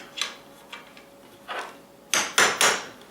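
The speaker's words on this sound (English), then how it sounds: "hammer in one of these suckers, or hammer in one of these suckers" Metal hammer striking a steel washer during chair work: a few sharp, ringing taps followed by three louder, close blows in quick succession, no talking.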